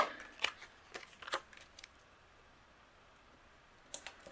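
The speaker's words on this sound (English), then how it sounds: "We'll just use the tape runner and layer these." A tape runner rolls adhesive onto layered vellum for a papercraft card, giving a few soft, close clicks and scratchy strokes in a short cluster, then quiet, then two more faint clicks.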